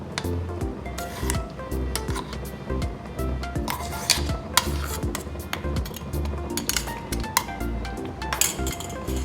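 Ground chickpeas being stirred into channa masala in a pan, with repeated close clinks and scrapes of a utensil against the metal pan over a soft wet squish, steady throughout with no talking.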